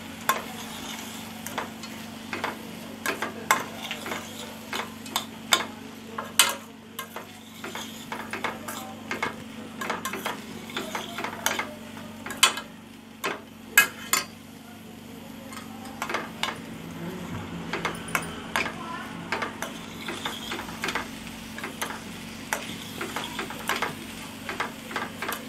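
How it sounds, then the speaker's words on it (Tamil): A spoon repeatedly scrapes and taps a pan as capsicum and grated coconut fry with a soft sizzle, with irregular knocks and stirring strokes throughout. "போட்டு நல்லா மிக்ஸ் பண்ணி விட்டுடலாம்"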